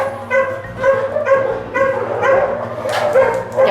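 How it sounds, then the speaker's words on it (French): A Doberman at an animal shelter gives repeated short, loud barks and yips at an uneven rhythm, close by, with a whimpering edge between some barks. "Alors ça, c'est une Doberman."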